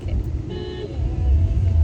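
A car driven on a city road on the way to Padmanabhaswamy temple, its engine a low steady rumble from inside the cabin with faint traffic sounds around, no talking.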